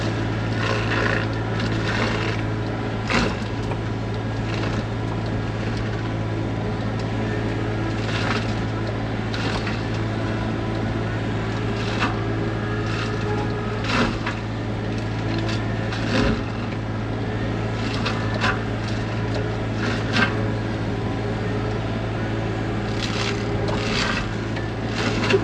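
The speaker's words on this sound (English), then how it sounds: "Old hemlock sure grinds nice." A Sany mulcher grinds old hemlock wood during land clearing, a loud steady machine drone with a constant low hum and repeated short crunching bursts as wood is chewed, with no voices.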